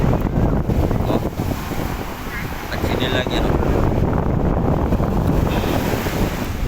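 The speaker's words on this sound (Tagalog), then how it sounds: "napakalakas ng alon na yun" Heavy surf and roaring wind at Baseco Beach, Manila, fill the clip, with someone talking over the constant crash of strong waves close by.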